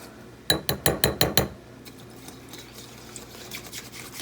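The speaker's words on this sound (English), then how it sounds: "you're going to give each one of these an initial stir, just to make sure all the dry ingredients are incorporated in. You just whisk it real well." A small whisk stirs chia pudding in a glass jar, giving six quick, bright clinking strokes in a fast, even rhythm, then fainter scraping and light taps.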